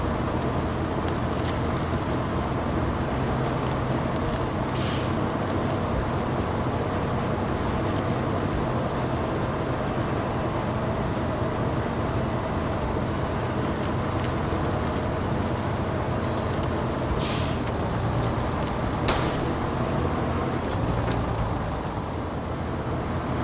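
Truck in the Expeditions video game crawling through a large snow patch on lowered tire pressure, a steady low engine drone with crunching texture throughout, close and unbroken.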